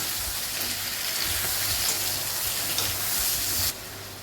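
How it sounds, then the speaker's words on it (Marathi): Onions and tomatoes sautéing in a hot pan over a fast gas flame, a loud, steady crackling sizzle with faint stirring scrapes, ending in a slightly quieter hiss. "इथे आता हलकासा गोल्डन कलर आला कांद्याला तर त्यामध्ये आपले ही टमाटे टाकून घेऊ आणि परतून घेऊया"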